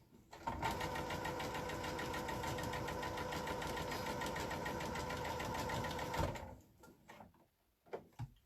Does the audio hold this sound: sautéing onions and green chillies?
no